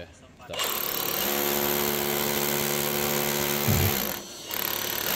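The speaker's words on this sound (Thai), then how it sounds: "ตัวเครื่องดูดฝุ่นนะครับ จะมีระยะเวลาหน่วงเล็กน้อย หลังจากที่เราเจาะเสร็จเพื่อให้เขาดูดฝุ่นได้เคลียร์จริงๆ" A Bosch GBH 187 cordless rotary hammer drills with its dust extractor attached, giving a loud, steady mechanical whine for several seconds that cuts off, pauses briefly, and starts again.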